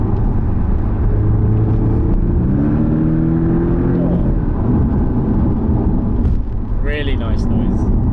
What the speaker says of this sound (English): What you're hearing is what they want you to hear through the exhausts.